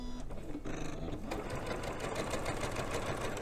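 A sewing machine fitted with a gathering foot runs steadily, stitching fabric with a continuous dense whir and rapid mechanical chatter that stays close and loud throughout, with no talking.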